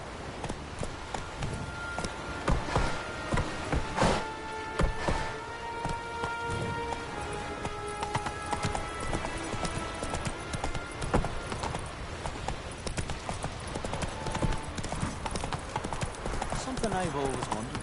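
Roach, the horse in The Witcher 3, gallops with fast rhythmic hoofbeats through rain and game ambience, loud and continuous, with a voice speaking over it at times.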